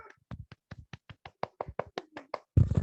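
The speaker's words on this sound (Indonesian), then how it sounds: "boleh tepuk tangan untuk diri masing-masing" Children clapping for themselves in an online maths class, a quick run of about a dozen crisp, close claps, slightly uneven in rhythm and ending in a louder burst.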